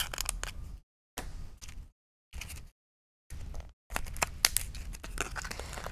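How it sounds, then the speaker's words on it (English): A taped package of sprinkles being opened, giving several short bursts of crinkling, tearing plastic separated by brief silences, then a longer busy stretch of rustling and crackling close to the microphone. "Boy, package opening is not my thing today."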